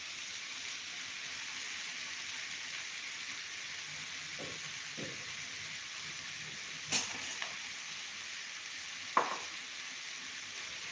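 Boiled salted rice tipped into a pan of spinach biryani, sizzling and frying steadily with a few soft stirring scrapes and one sharper clink near the end, moderately close and with no voices.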